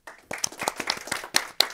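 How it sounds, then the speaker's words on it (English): Sparse, scattered clapping from a small seminar audience welcoming presenters, a handful of individual claps irregularly spaced over a couple of seconds, fairly quiet in a quiet room. "So a big applause and welcome."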